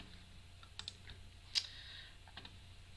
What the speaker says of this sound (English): My keyboard doesn't make nearly as much noise.